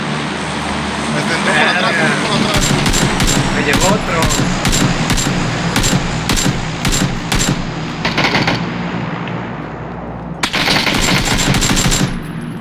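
Rapid bursts of automatic gunfire in PlayerUnknown's Battlegrounds, quick rhythmic strings, loud and close, with people talking excitedly in Spanish over the shooting.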